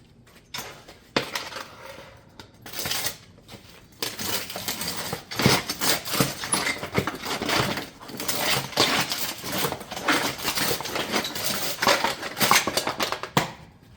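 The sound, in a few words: cutting metal roof ridge panels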